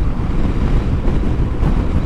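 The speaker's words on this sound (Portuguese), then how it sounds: "Olhem aí o vento." Wind noise from riding a Honda Forza maxi scooter at about 80 km/h down a mountain road, a loud, steady low roar and buffeting across the whole clip with no talk.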